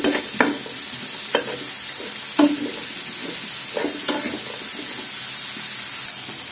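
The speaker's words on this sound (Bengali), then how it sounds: "এগুলো এখন তেলের মধ্যে একটু ভেজে নেব।" Onion and garlic frying in hot oil, a steady bright sizzle punctuated by several scraping stirs of a spatula in the pan, close and clear with no talking.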